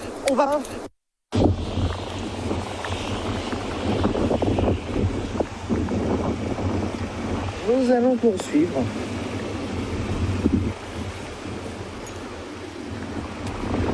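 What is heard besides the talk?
wind during Tropical Storm Ernesto in Le Moule, Guadeloupe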